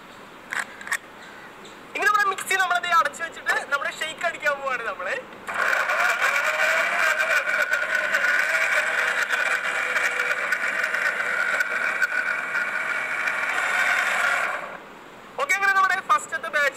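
A blender whirs through a KitKat chocolate ice cream milkshake. The steady motor runs for about nine seconds, with someone talking before and after it.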